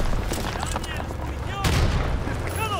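Machine gun fire and explosions from the Call of Duty WWII campaign on D-Day, loud and dense bursts layered with booms, while a person talks over the combat.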